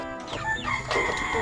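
A chicken clucks and squawks close by in a short burst of rising and falling calls.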